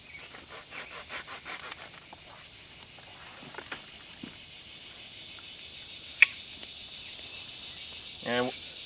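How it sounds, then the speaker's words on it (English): Short rasping sawing strokes cut the ends off wooden sticks while building a primitive basket fish trap held with paracord, a quick burst of rubbing cuts at the start, then quieter scrapes and a faint sharp tick. "And then take the ends and just trim those off."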